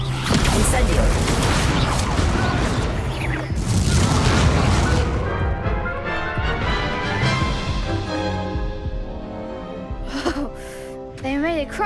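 Incendio fire spell in the video game Hogwarts Legacy, loud booming bursts and roaring flame over dense game sound that fades toward the end, with voices in game speech throughout.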